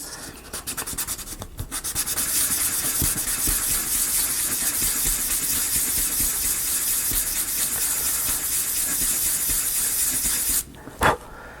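Soft wood is rubbed steadily with fine, not very coarse sandpaper, giving a continuous close-up scratchy hiss that lasts about ten seconds before stopping, followed by a single short knock.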